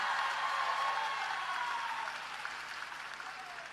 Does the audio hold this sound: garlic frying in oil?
no